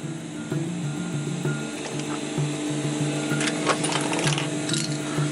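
A sewing machine runs a regular stitch along the seam of a DIY rollup bag, a steady close mechanical whir with light rhythmic ticking and a few brief pauses and speed changes.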